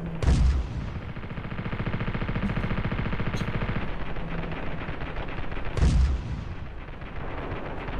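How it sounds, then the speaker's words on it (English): Rockets fire and explode in the video game Ravenfield, with two heavy booming blasts several seconds apart and a dense rattling burst of gunfire and rumble filling the space between them. "Okay, there's the rockets."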